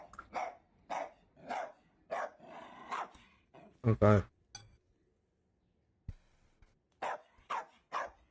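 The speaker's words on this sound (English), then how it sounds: "This dog is the definition of all bark and no bite." A dog barking in a run of sharp, evenly spaced barks nearby, broken by a louder burst, a glassy clink and a brief spoken word before the barking resumes.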